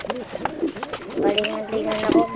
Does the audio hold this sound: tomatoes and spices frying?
no